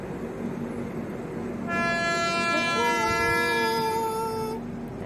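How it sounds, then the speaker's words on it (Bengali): A long-distance Indian passenger train approaches near the Kolaghat bridge, sounding a sustained multi-tone horn for about three seconds over a continuous low rumble of rolling wheels. "দেখো ট্রেন আসছে"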